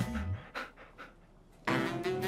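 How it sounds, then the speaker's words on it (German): A dog pants close by in quick, breathy bursts, growing louder and heavier toward the end, with no one talking over it. "Braver Hund."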